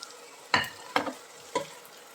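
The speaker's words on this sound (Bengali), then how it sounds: "পেঁয়াজ আর বাঁধাকপিটা লাস্টে দিয়ে এইভাবে এরকম সতে টাইপের করে নেব" Three quick scraping tosses of spring onion and shredded cabbage being stir-fried into restaurant-style chicken fried rice, each a short close sizzle-and-scrape burst over a quiet background.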